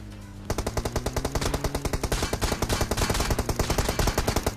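Rapid, rhythmic bursts of automatic gunfire in the PUBG Mobile video game, loud and close, a steady stream of shots after a brief quieter lead-in, with no voices.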